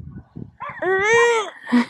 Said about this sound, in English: Layla's barking and other dogs are barking